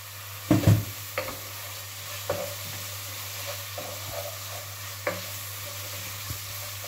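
Matchstick strips of speck brown in a pan with a soft, even sizzle at low volume, over a steady hum, with a few sharp clatters near the start and later.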